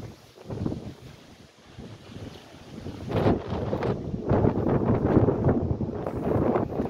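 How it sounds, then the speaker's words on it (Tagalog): Steady wind buffeting the microphone at the seaside in Zea, Piraeus, rumbling low and growing stronger in gusts toward the end. "Mahangin po."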